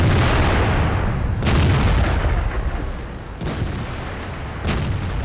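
Artillery fire in the tank battle game World of Tanks: heavy booming shots with rumbling tails, three distinct blasts spaced a couple of seconds apart over continuous loud low battle rumble.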